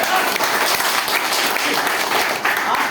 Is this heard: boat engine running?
no